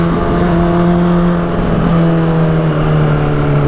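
Honda CBR600RR motorcycle engine accelerating, a loud steady whine that climbs in pitch over a few seconds, with no talking.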